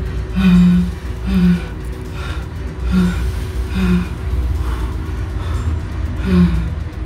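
Heavy, labored gasping breaths repeat in a slow rhythm, close and loud, over a constant low background hum.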